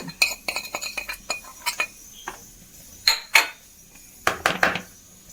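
A spoon stirring gram flour batter with chilli powder, salt and asafoetida in a bowl, a quick run of sharp clinks and scrapes against the rim in irregular bursts, close and fairly loud with no talk.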